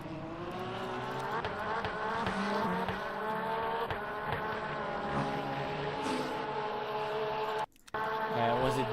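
A race car in Le Mans Ultimate, a Porsche 992 at Spa, revs hard and downshifts, its engine note rising and falling in a steady, close, loud drone with a brief cut near the end.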